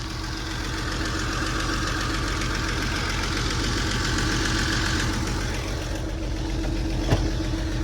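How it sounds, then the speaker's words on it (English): Car engine idling steadily and close up, a smooth continuous mechanical hum with a faint knock-like pulse and no voices. "it holds a good idle"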